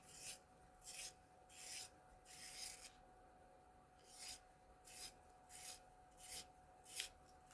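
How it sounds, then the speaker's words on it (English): A tool being sharpened by hand: about a dozen steady, rhythmic rasping strokes, each a short scraping hiss separated by brief pauses, fairly close and with no talk. "And I need to sharpen."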